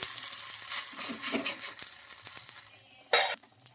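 Corn batter sizzles steadily in oil on a hot pan and is flipped to its other side, with a spatula scraping and a sharp metallic clink near the end.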